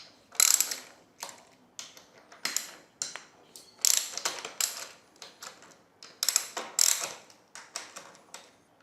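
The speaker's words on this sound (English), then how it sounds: "I'm going to loosen off these two pinch bolts here" Wrench ratchet clicking in quick, repeated bursts as motorcycle fork pinch bolts are loosened, crisp close mechanical clicks with short pauses between strokes.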